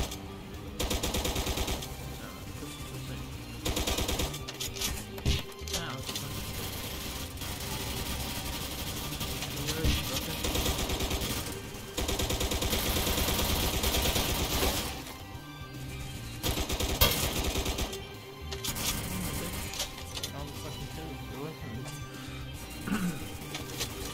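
Gunfire crackles in a spooky zombie ghost video game, with bursts of shots in rapid runs broken by short pauses across the clip, loud and close over busy game noise.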